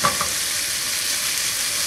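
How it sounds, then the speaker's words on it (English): Chopped chorizo frying in a pan while being stirred and broken up, a loud, steady sizzle with a couple of scraping stirs at the start and no talk. "So just keep chopping it up, let it cook"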